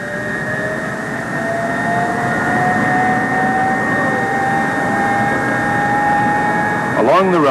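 Jet engines of a Convair F-102 starting up with ground power and starting gear attached, a loud steady whine that slowly rises in pitch over a low roar, with a narrator speaking over it.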